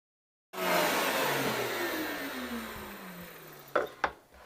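A PantoRouter fitted with a bull-nosed bit cuts a pass in wood, starting abruptly with a loud motor whine that slowly winds down in pitch, followed by two short sharp knocks near the end.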